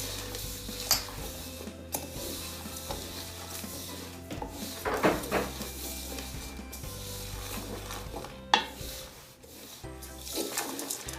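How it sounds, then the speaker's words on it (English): Dry ingredients with white chocolate chips stirred in a bowl for bliss balls, making soft rubbing and scraping strokes with occasional clicks and knocks, heard close with no talk. "We're going to stir up these dry ingredients until they're mixed"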